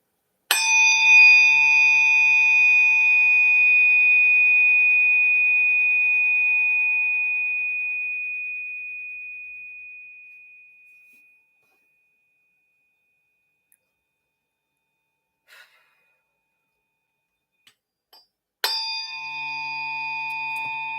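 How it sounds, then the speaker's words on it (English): A 144 hertz unweighted tuning fork struck and left to ring, a pure sustained tone that slowly fades to silence over about ten seconds before being struck again near the end. "This is the 144 hertz unweighted fork that I'm using."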